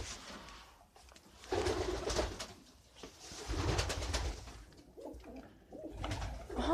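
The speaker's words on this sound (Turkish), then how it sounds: "Güvercin gelmiş güvercin. Cidden gelmiş." A pigeon coos in low, throaty repeated phrases, fairly close, rising and falling in a slow rhythm.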